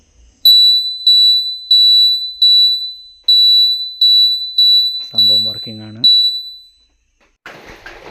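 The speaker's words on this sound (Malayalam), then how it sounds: "ബസ്സറും ഫ്ലാഷറും കൂടി ഫിറ്റ് ചെയ്തു" A vehicle indicator buzzer, newly fitted along with a flasher unit, beeps in a steady, evenly spaced series of about ten sharp, high-pitched chirps, loud and close, while someone briefly speaks.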